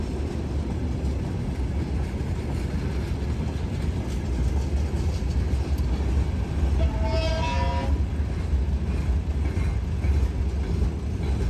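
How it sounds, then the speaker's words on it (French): A train rumbles past as a steady broadband roar, with a short horn-like tonal blast partway through, fairly close and continuous throughout. "Je pense que c'était un train."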